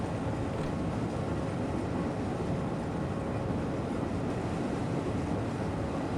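A train runs on the Albula Line in Train Simulator 2017, a steady, dense rumble and rolling noise that stays at an even loudness throughout with no breaks.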